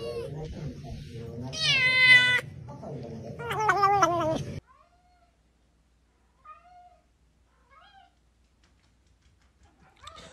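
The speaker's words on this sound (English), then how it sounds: "I thought you were just meowing." A cat meows loudly in two long, harmonic calls over the first few seconds, with a lower rumble beneath, then the scene drops to near silence broken by a few faint short sounds.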